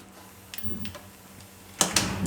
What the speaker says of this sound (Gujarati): તો ગેસ ચાલુ કરી દે હું.